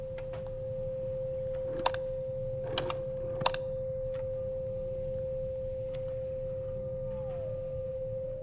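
A steady sine wave tone in the VR game Ghost Town hums continuously from a spectral scanner, with a few sharp clicks early on and a short gliding pitch change near the end.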